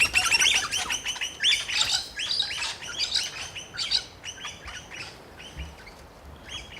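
Wild birds at a feeding spot in Loch Sport, Australia, giving a busy run of close, bright chirps and squawks in quick bursts, with a few low thumps underneath and no speech.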